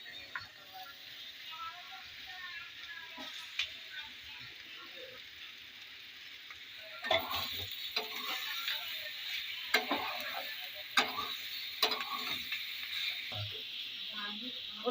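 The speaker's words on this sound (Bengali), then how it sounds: "তো পাস্তাগুলো এবার আমি দিয়ে দেবো সবজির মধ্যে" Boiled pasta and vegetables cooking in a pan: a faint low sizzle at first, then from midway a series of stirring clatters and scrapes over a louder frying hiss, close and intermittent.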